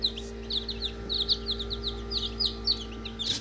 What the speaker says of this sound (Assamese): এইকেইটা পোৱালি ফুটি হৈছে কালি পৰহি এইবোৰ